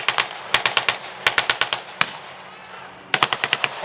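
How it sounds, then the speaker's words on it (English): Machine gun fire from gunners on a rooftop in a World War II video game set in a town, coming as rapid bursts of sharp cracks separated by brief pauses, loud and close, with a low rumble of battle underneath. "You've got the machine gunners up on the roof there"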